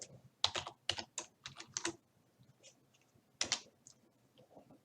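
Someone types on a computer keyboard in quick clusters of crisp keystrokes, with pauses between bursts and a few lighter taps, close and clear with no voices.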